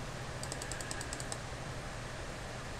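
Quick burst of about a dozen light computer keyboard keystrokes over a steady background hum, close and faint, lasting under a second.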